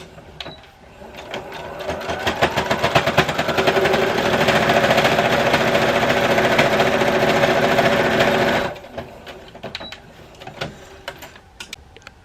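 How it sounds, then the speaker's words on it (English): A sewing machine straight-stitches layers of cotton fabric for a face mask, a steady close motor whir running unbroken for several seconds before stopping abruptly, with faint handling noises around it. "you're going to sew these together just like you did the other layers"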